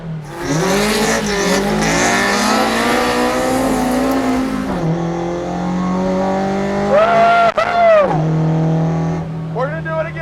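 An original Toyota AE86 without power steering drifts on a wet track in New Zealand, its engine revving hard and steadily with rising and falling pitch, and short tire squeals breaking through near the end.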